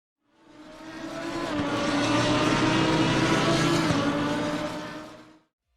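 A racing car engine from the game Assetto Corsa roars past, swelling in from quiet to a loud, sustained drone with shifting pitch, then fading out again, with no speech.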